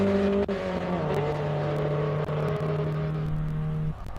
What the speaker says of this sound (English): Datsun GX Coupe out on track as well